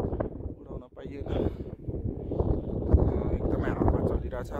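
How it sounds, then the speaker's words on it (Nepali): Strong wind gusting at a mountain viewpoint, a steady low rumbling roar that buffets the microphone for the whole stretch, with people talking underneath. "एकदमै हावा चलिरहेछ त्यही कारणले पनि यहाँ चाहिँ ड्रोन उडाइएन"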